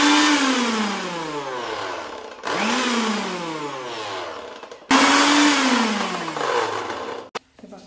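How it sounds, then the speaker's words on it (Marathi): A mixer grinder blends roasted coconut, chopped coriander and garlic into a paste in three loud, close bursts. Each whining motor run winds down in pitch before the next one starts, with no talk. "हे मिश्रण आपण मिक्सर मधून फिरून घेऊ।"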